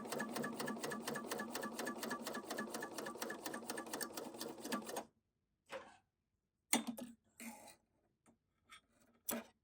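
A sewing machine stitches fabric in a fast, steady, even rhythm for about five seconds, then stops, followed by a few soft handling clicks and rustles, all close and fairly quiet.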